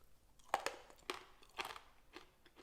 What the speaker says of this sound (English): A lot more of a crunch with the split peas when you fry it up